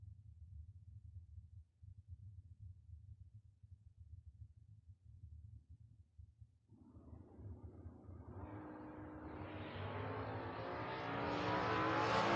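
Drag racing tour cars, including a Mustang, idle with a low, faint rumble before one launches at about seven seconds, its engine building into a rising, increasingly loud roar.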